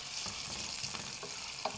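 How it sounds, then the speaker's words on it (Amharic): Sweet potato and beetroot sizzle steadily in hot oil in a pan, a continuous bright hiss with faint stirring clatter, close and moderately loud with no talk. "እናቁላላለን ትንሽ።"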